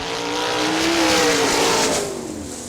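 Sprint cars with 410 engines rev and sweep past at Hartford Speedway Park, Michigan, the engine pitch climbing then bending down as the loud pass peaks midway and fades slightly.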